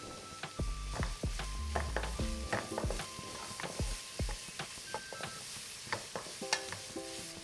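Beans and carrots stir-fried for vegetable fried rice, a spatula clattering and scraping in a rapid irregular rhythm against the pan over a continuous close sizzle, no voices.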